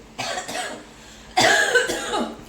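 Several coughs from one person, a pair of short coughs followed by a louder, harsher burst of coughing close to the microphone.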